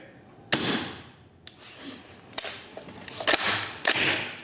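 Subsonic .308 rifle with a Huxwrx Ventum suppressor on a 12.5-inch barrel firing at night, several sharp muffled reports spaced irregularly with faint metallic rings from a distant steel target.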